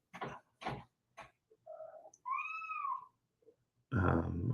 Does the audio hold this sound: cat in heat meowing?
yes